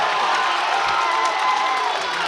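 A home crowd in a high school gym cheers loudly for the Lancers during a basketball game against Cambridge, a dense steady roar of shouts and whoops that fills the whole moment, with no clear voice rising above it.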